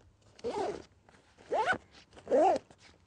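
Zipper on the top lid of a Sierra Designs Flex Capacitor 40-60L hiking backpack, three short rasping pulls spaced about a second apart, close and fairly quiet.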